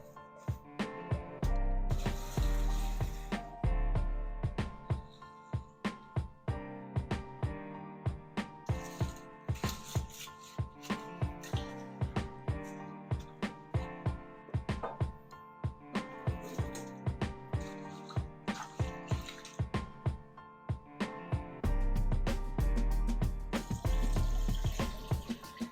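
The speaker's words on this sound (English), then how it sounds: "Let's give them a quick rinse and then boil them." Water runs and splashes into a saucepan holding a mix of aquarium botanicals during a rinse, with steady rushing broken by many short clattering knocks, close and fairly quiet, and no talk.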